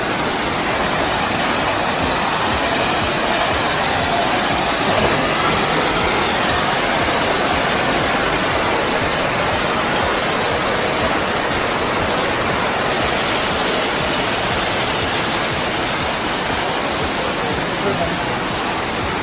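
Thottikallu Falls, a waterfall near Bangalore, gives a loud, unbroken roar of rushing water that stays steady and close throughout.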